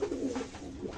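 Domestic pigeons coo in a low, throaty rhythm from a loft with nesting boxes, several soft repeated coos rolling close by with no talking.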